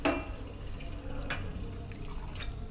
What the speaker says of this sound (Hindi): और अब हम इसमें डालते हैं थोड़ा पानी